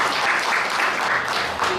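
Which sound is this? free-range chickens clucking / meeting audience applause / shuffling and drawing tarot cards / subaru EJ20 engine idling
meeting audience applause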